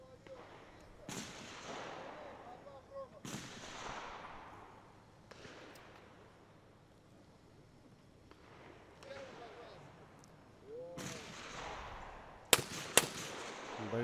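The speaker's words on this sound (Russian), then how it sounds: "Борис Борисович вторым выстрелом добирает мишеньку" Shotgun blasts at clay targets in an open shooting competition ring out as about seven sharp, echoing reports, singly and in quick pairs, spread across a quiet range while a commentator speaks between them.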